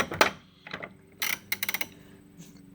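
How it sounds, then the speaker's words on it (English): Tekton fine-tooth ratchet wrench from a socket set, clicking in quick close bursts of rapid fine ticks separated by short pauses, crisp and alone. "I just barely moved the deal there and it clicks. I can't remember what the degree separation is there, but very, very nice fine ratchet"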